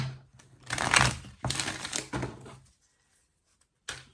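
A deck of tarot cards is shuffled by hand, two quick papery riffling bursts followed by near silence and a brief final snap.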